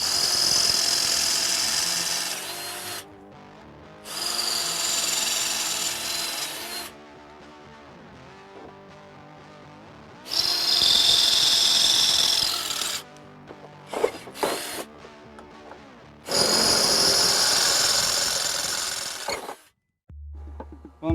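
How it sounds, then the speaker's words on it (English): A hammer drill bores into a wall while a home is readied for a Florida hurricane. It sounds as four loud, sustained grinding and hammering bursts with short quiet pauses between them, then a brief low thump at the end. "if you have an actual hammer drill, that's where it's drilling and it's punching at the same time."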